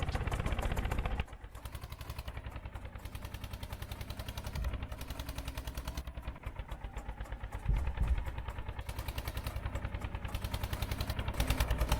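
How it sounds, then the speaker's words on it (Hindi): A tractor engine runs steadily as it drives across an unguarded railway track on a farm route, a loud, close, rhythmic mid-pitched chugging with brief bumps, no talk over it. "वह ट्रैक के दोनों तरफ देखता हुआ ट्रैक्टर को निकाल लेता है।"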